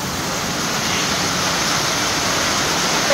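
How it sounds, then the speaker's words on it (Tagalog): A downpour of heavy rain hisses in a constant, close, broadband wash that holds steady throughout without voices. "My God, it's so very rainy, ah!"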